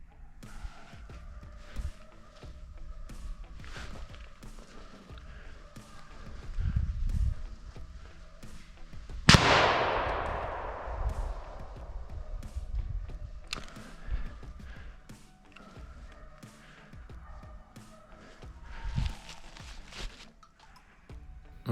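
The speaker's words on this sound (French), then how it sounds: "le voisin essaye de tirer le dernier sanglier" One sharp, loud gunshot rings out partway through a driven wild boar hunt in the woods and trails off in a long echo. Footsteps and brushing sounds come and go around it.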